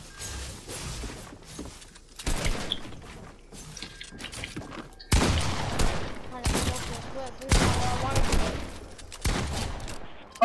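Bursts of gunfire in Fortnite, loud rapid volleys separated by quieter gaps, close and sharp, with no talk.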